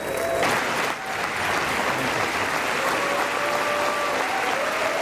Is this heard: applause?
yes